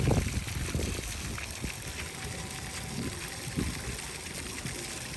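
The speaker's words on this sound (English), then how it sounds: "All right, here we are at the splash pad." Water gushing and spraying at a shallow splash pad in an outdoor splash park, a steady broadband wash with faint voices in the background.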